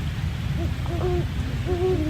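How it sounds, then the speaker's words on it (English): Two great horned owls hoot back and forth in a repeated low, soft series of calls, set against steady background rumble. "there are two great horned owls who've been calling to each other for the last, I don't know, at least an hour"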